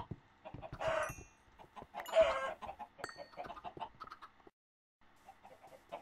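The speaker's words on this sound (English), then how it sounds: "There are so many chickens here." Crowds of video-game chickens cluck and squawk in dense overlapping bursts, loudest in two flurries near the start, then thinning into scattered clucks before a brief silence and quieter fowl noise at the end.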